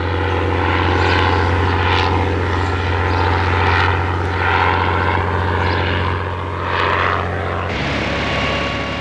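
Bristol Fighter biplane flying with its propeller engine droning loud and steady, the pitch gently rising and falling as it passes, shifting to a thinner tone near the end, with no voices.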